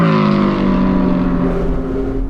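A Porsche 718 Spyder with a naturally aspirated 4.5L engine of about 565 hp revs hard up close, its loud, steady engine note shifting in pitch as it is worked through gears.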